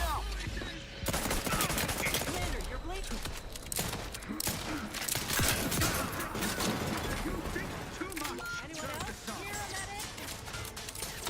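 Dense gunfire in The Outer Worlds 2 video game, including sniper fire, with rapid overlapping shots and bursts throughout, under a voice speaking and game dialogue.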